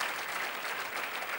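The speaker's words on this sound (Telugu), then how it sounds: "చాలామంది చప్పట్లు కొట్ల" An audience at a talk claps together in a dense, continuous burst of applause, fairly loud and steady with little else heard.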